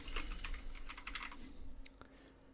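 Close, quick typing on a computer keyboard during game development work, a dense burst of key clicks that thins to a few last taps.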